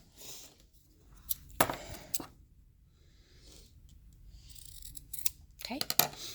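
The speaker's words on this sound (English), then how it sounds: "don't go through the stitch line, but you are simply going to then cut." Scissors cut fabric close up to miter a corner, several crisp snips spread across the moment with quiet pauses between them, and the second cut is the loudest.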